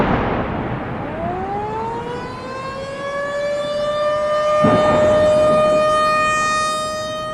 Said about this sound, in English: had the dispatchers turn on the sirens and keep them going